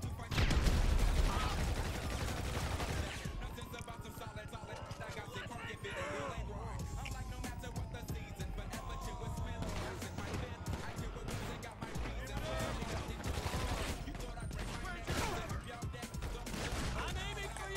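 Dense, rapid gunfire in a PS3 shooter game, bursts rattling continuously at full loudness with a bouncing grenade and voices talking over the clamor.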